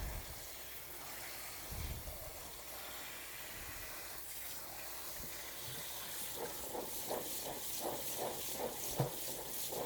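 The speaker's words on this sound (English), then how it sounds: "you're just going to keep rinsing the corn." White corn for Oneida corn soup being rinsed and rolled in a strainer basket under running water, a steady hiss of flowing water with soft splashing and sloshing that grows busier and more rhythmic toward the end.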